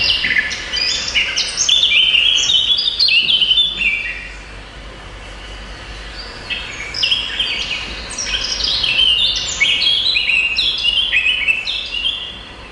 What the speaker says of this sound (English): Singing with all its heart, the classic warbler, sound of spring